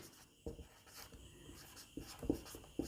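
Marker or chalk strokes on a board as physics gas-law formulas are written, a few short scratchy bursts and taps spaced irregularly, close and fairly quiet, with no voices.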